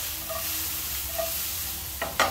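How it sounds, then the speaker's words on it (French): Endives sautéing gently in a pan with salt and pepper, a steady close sizzle running throughout, with a couple of brief scraping stirs near the end and no talk. "Voilà, on les fait revenir gentiment"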